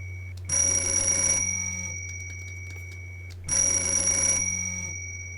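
A synthetic phone ringtone from the Nintendo Switch game 1-2 Switch Telephone minigame plays in two bright, ringing bursts about three seconds apart over a steady low hum, each burst trailing off.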